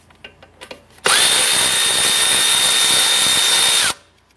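A power tool spins out a bolt in one loud, steady whir of about three seconds, set off by a few light clicks before it starts.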